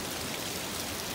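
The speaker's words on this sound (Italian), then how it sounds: "ho visto che c'è una cascatina qui, che di solito non c'era" A small seasonal waterfall, running after rain, gives a steady, even rush of falling water that stays fairly faint throughout, with no voices.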